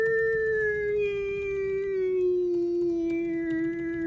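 A voice imitates a cat-like howl, one long, steady, wavering tone that slowly slides lower, held close and loud without a break.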